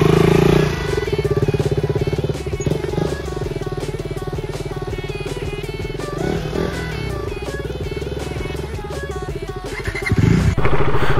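Several motorcycles from a group ride idle and rev together nearby in hot weather, a steady loud engine drone with a few surges and clatter, louder at the start and end, no talk.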